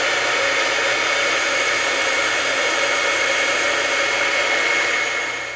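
A heat tool blows steadily and loudly at close range, melting heat and stick embossing powder on a stamped craft piece, giving a constant hissing whoosh that fades slightly at the end, with no talk.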